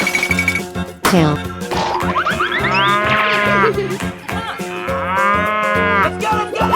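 A cow moos loudly in long, drawn-out calls over bouncy background music, with springy boing-like effects mixed in.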